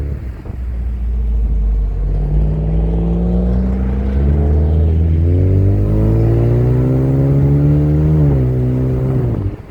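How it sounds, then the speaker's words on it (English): A 2020 Ford Mustang EcoBoost convertible with active-valve performance exhaust revs up, a deep rumble climbing in pitch through rising revs, loud and close, alone without talk. "That active valve, that performance exhaust sounds so damn nice."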